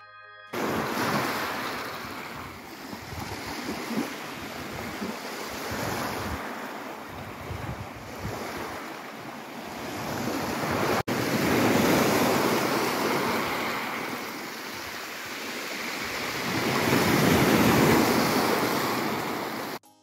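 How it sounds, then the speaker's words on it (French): Ocean waves rolling onto a beach in Forillon National Park, a broad continuous wash of surf with swelling surges and heavy wind noise on the microphone, no voices. "C'était tellement agréable d'entendre les vagues."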